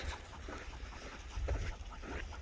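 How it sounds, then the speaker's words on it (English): Restless dogs pant and whimper after a long van ride near desert trails and old fort ruins, rapid rhythmic panting with soft whines over a low rumbling background, fairly faint throughout. "The dogs are going nuts."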